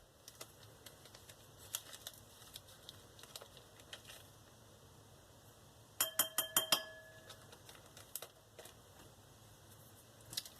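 A metal spoon clinks against a container while black glitter is added to clear slime, giving a quick cluster of bright, close taps mid-clip amid scattered lighter ticks and handling noises.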